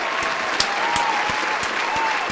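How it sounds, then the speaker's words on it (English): Audience applause for boxer Most Wanted at a Misfits Boxing event: a steady wash of many hands clapping, with a few sharper individual claps standing out, sustained evenly throughout. "Let's give Most Wanted a round of applause."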